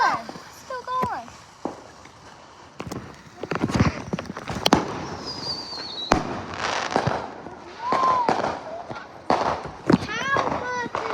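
Fourth of July fireworks bursting outdoors, a string of sharp cracks and pops with whistling rising shells, scattered at irregular intervals while people talk and exclaim nearby.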